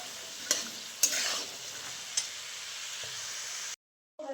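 Peas are stirred in a pan over a wood-fired clay stove: a spoon clinks and scrapes against the metal over a steady sizzle, then everything cuts abruptly to silence.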